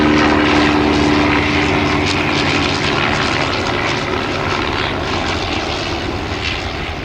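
A vintage propeller fighter plane roars past low at an air show, a loud, steady engine drone that slowly fades and shifts pitch as it passes, with no talk over it.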